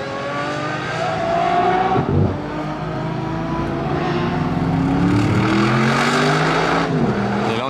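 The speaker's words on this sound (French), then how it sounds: "Et là on est sur un V8 AMG." An Aston Martin with a V8 AMG engine in racing green pulls hard on a race circuit, its engine note climbing loud and close through repeated rising sweeps that suggest gear changes, with no voices over it.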